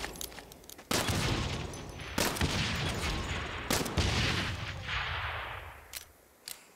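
Bursts of automatic gunfire at a shooting range in Saints Row, several loud volleys separated by brief pauses, close and sharp, ending in a few scattered shots.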